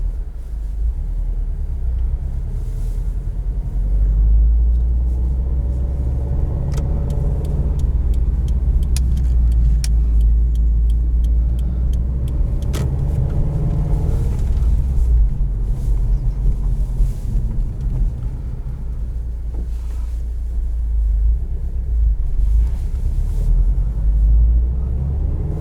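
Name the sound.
2019 Subaru WRX STI driving over bumps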